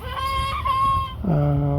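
A chicken clucks and calls nearby in a steady run of throaty, drawn-out notes, with no one speaking.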